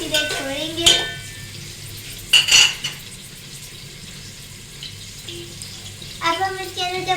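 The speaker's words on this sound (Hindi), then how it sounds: "अब हम इसको चम्मच से हिलाएंगे।" A spoon stirs browning onions in a pot on the stove, giving scraping clinks and metallic knocks against the pot over a soft sizzle, with a voice briefly heard.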